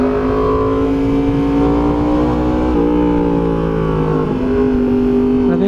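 A Yamaha MT-10 motorcycle fitted with an SC Project exhaust and carbon wheels runs close by with a loud, deep, round engine note that rises and shifts pitch in steady revs throughout.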